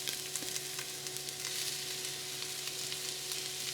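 Diced onion frying in a couple tablespoons of oil in a big pot, a bright, continuous sizzle with small pops and crackles throughout, close and alone.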